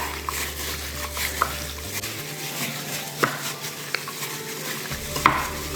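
Pork chop pieces are mixed with salt, pepper and spices in a bowl, making a soft wet stirring rustle close by with a few sharp clicks of a utensil against the dish.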